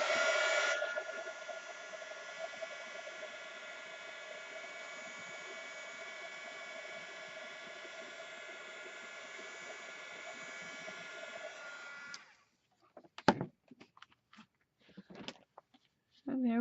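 A heat tool runs steadily on a craft journal page, a loud, continuous blowing whir with a tonal hum for about twelve seconds, then cuts off, leaving scattered light handling noises.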